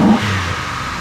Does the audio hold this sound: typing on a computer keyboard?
no